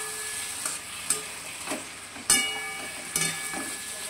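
Fish and fresh coriander leaves are stirred in a frying pan: a low sizzle runs under several sharp scraping clanks of the utensil against the pan, spaced irregularly across a few seconds.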